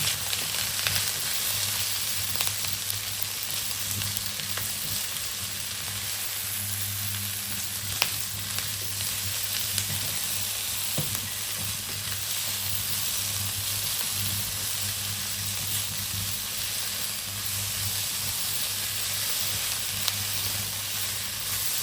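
Red and green bell peppers sizzle in a hot pan with a constant bright hiss and crackle, joined by occasional scraping stirs and a low steady hum underneath, sustained for over twenty seconds without speech.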